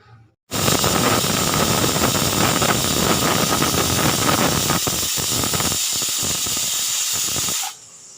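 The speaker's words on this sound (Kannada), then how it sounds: "ಇದಿಷ್ಟನ್ನು ನಾವು ನಾಲ್ಕರಿಂದ ಐದು ಕೂಗಿಸ್ಕೊಳ್ಳೋಣ" A pressure cooker whistling as it cooks a pot with grated coconut and salt, one loud, harsh, steady jet of steam that bursts on abruptly, holds for about seven seconds, then cuts off.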